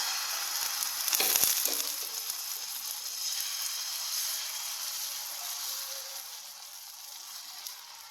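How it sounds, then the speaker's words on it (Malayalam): Batter poured onto an oiled hot pan for a breakfast dish, giving a steady hiss of sizzling after a brief clatter near the start, fairly faint and unbroken. "നമുക്ക് കുറച്ച് എണ്ണ തേച്ച് കൊടുക്കാം മാവ് ഒഴിച്ച് കൊടുക്കാം"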